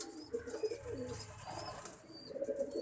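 Pet golden and teddy pigeons coo softly in a few low, rounded calls close by, with faint rustling and no talk.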